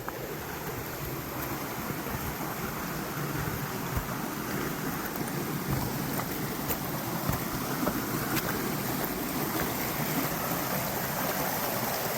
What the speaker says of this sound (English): This one takes you down to the creek.